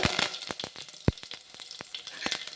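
Curry leaves crackling and sizzling in hot oil with mustard seeds, a quick series of sharp pops and spits over a steady frying hiss, close by.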